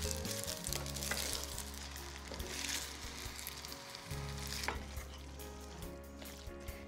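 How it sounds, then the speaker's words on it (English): Carbonara sauce of cream mixture thickening in a pan while being stirred constantly, giving a steady, faint sizzle with soft scraping strokes throughout. "stirring constantly, I'll cook for about 2 to 3 minutes until the sauce thickens"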